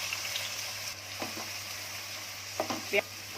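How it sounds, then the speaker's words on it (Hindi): Chopped onions frying in oil, a quiet continuous sizzle with a few soft scraping stirs clustered near the end. "प्याज की थोड़ी रंगत बदलने तक भूनूंगी।"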